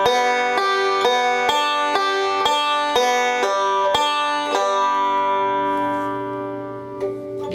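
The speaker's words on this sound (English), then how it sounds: "so I'll play the open strings as slow as I can" A slow forward-backward picking roll on open strings for a Lonesome Road Blues break gives an even series of clear plucked notes, about two per second, that ring out and fade at the end.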